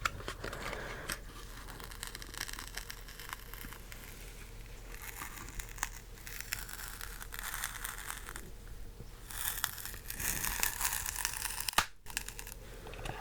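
Beyblade X packaging for Keel Shark and Lance Knight slowly ripped open by hand, a steady close papery tearing and crinkling that runs throughout, growing a little louder toward the end before a brief pause.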